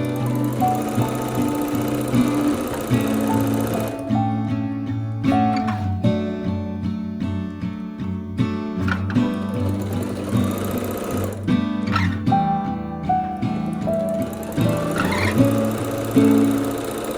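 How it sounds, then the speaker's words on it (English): A sewing machine stitches quilt rows together in a home setting, a steady mechanical whirr with rapid needle chatter, running in bursts with short pauses and slight speed changes, close and clear. "I'm sewing these rows together"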